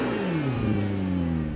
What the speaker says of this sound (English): We get in, we rev it up,